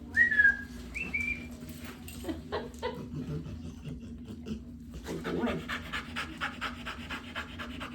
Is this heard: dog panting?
yes